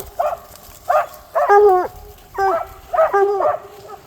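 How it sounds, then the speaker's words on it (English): A bear hound barks repeatedly in the wilderness of British Columbia, a series of short, close yelping barks and bays in an uneven rhythm, with no talk over them. "That's a bear hound right there."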